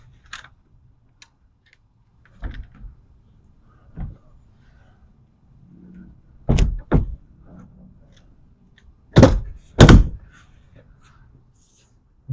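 A BAKflip MX4 hard folding truck bed cover is opened after a repair, giving scattered thunks and clacks from its panels and hinges, with a few louder knocks near the end and quiet gaps in between.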